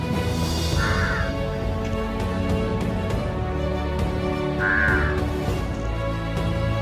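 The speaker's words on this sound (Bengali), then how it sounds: "আমরা এখানে আসার পরে কাকটা কেমন ডাকছে দেখো" A crow caws twice, a few seconds apart, over a steady droning background hum, at a cremation ground on Talsari beach.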